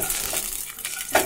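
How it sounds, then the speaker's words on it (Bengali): Cloves and whole spices frying lightly in white cooking oil for pulao, heard as a short soft sizzle with a faint clink of a utensil near the end. "তো এগুলো একটুখানি ভাজা করে নিই হালকা করে"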